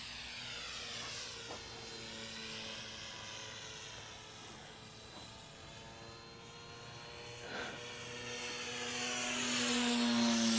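RC model Ki-44 fighter plane with its small engine at maximum revs, a high whining buzz that shifts in pitch as it flies past outdoors at a distance, growing louder toward the end.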